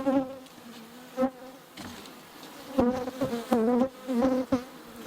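Honey bees buzz steadily around a hive that is bringing in nectar and pollen and building extra comb, with droning tones rising and falling as individual bees pass close to the listener.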